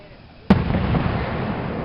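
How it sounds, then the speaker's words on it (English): A loud firework burst cracks sharply at a Fourth of July-season display in Tri-City, Kentucky, followed by a sustained rumbling crackle and a second thump at the end, with people talking nearby. "That'd be have to be Tia's fireworks"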